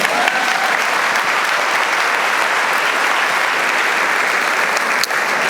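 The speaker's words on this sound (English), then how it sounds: "You can clap for that." A large convocation audience applauds in a dense, steady wash of clapping that stays loud and even for several seconds, with no voices standing out.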